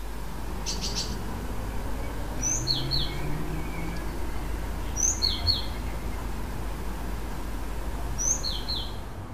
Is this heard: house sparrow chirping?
yes